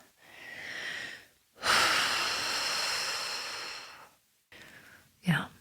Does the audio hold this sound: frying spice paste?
no